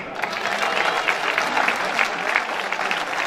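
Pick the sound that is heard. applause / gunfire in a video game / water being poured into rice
applause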